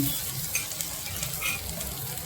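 Bamboo shoots, a Konkani wild vegetable, sizzle and crackle as they are stirred in a kadhai, a close, continuous frying hiss with light clinks from stirring.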